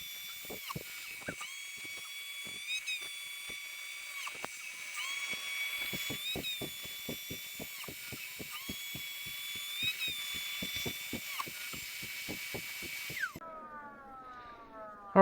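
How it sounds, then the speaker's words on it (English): Goalie hockey skate blades being sharpened with a powered sharpener, a steady high whine with a string of rhythmic grinding pulses as the blade passes, ending abruptly in a brief falling tone. "I sharpen these skates with the steel on the skate"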